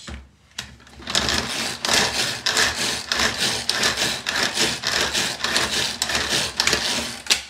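A knife chops an onion finely on a board, a steady run of quick, close, crisp cutting taps after a brief quiet start, with no talk.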